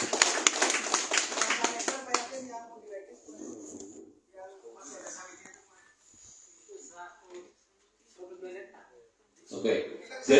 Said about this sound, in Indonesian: Tepuk tangan untuk Pak Yakin.